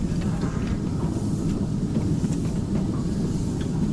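A miniature live-steam railway train rumbles along on the rails toward a water siding with a steady low drone and faint clicking, fairly loud and close, with no talking.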